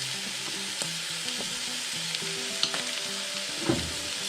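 A sandwich roll toasts on a buttered griddle with a steady, soft sizzle and crackle, broken by a few small taps and clicks.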